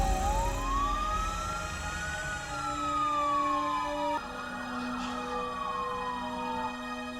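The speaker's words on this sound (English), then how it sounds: "the police sirens in the back" A wailing police siren from the TV series The Flash sweeps up and down in long slow cycles, fairly distant, over a steady hum of traffic.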